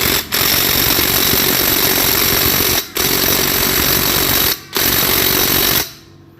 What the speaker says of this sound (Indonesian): kalau sudah mau masuk baru kita gas menggunakan impact ya